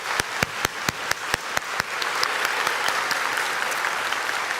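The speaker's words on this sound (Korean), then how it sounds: "우리 선교사님들을 향해서 응원의 박수 한번 더 할까요?" A church youth congregation applauds missionaries, opening with a run of strong, evenly spaced rhythmic claps that then dissolve into a fuller, sustained wash of scattered clapping throughout the room.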